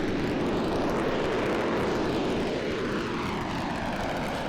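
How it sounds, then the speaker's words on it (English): A Soviet Su-15 interceptor jet in a video game roars down the runway on its takeoff roll, a loud steady engine drone with a slowly shifting whine and no talk. "watch just how much runway I need to take off in this"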